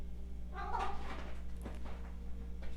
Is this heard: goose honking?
no